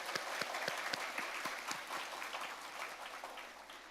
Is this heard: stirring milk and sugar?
no